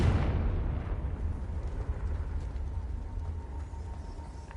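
A loud fire-spell explosion from the Hogwarts Legacy game on PS5 hits with a big burst at the start, then a long rumbling, crackling decay that fills the next few seconds, with no talk.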